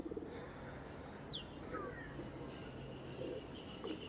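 A rare-generation pigeon gives soft, fairly distant coos in short separate bursts over a low steady hum, with a couple of faint higher chirps between them.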